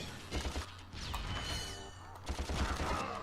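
Rapid weapon fire strikes a rock in the Ratchet & Clank (2002) game, giving a dense crackling burst of impacts and debris with a brief gap, then another rattling volley, moderately loud throughout.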